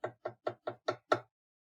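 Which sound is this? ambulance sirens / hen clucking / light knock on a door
light knock on a door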